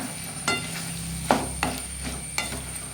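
Ridge gourd and moong dal are sautéed in oil, with a soft steady sizzle under sharp scrapes and clacks of a spatula stirring the pan at irregular intervals, close by and without voices.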